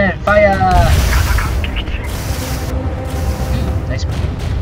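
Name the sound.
destroyer firing naval guns in video game Navy Field 2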